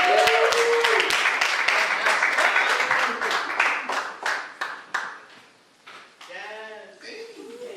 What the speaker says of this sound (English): Come on and clap it up for Miss Lisa Lips.